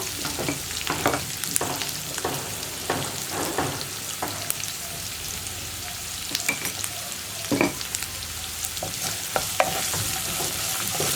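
Sliced onions sautéing with salt in a pan while being stirred: a continuous sizzle broken by repeated scraping strokes of a spoon, close and fairly loud, with no voices.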